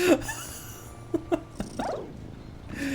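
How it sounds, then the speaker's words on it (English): A cat heard within a video game, a few short mewing and purring bursts close by, with a longer rising call midway, faint background hum between them and no talk. "get that cat off the roof"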